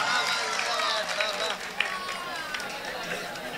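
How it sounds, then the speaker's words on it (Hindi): Audience applause at a mushaira poetry event in Nagpur, a dense, continuous wash of clapping from a large crowd, steady throughout with a little chatter mixed in. "एक मरतबा पुरजोर तालियां बजा दें दोस्तों"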